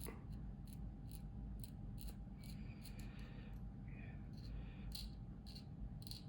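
An X-Acto blade scrapes a high spot off a clear plastic part of a Meng 1/48 F/A-18E model kit: faint, close, repeated short scratchy strokes over a quiet room hum.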